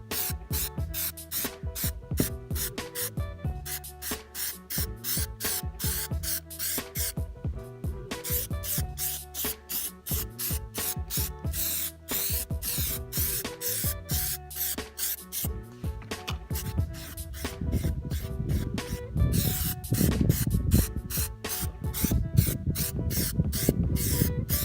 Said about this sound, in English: So let's go ahead and get with the spraying.